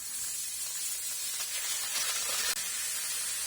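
Marinated liver fries in a pan of hot oil for menudo, a steady, close bright sizzle and hiss running without a break.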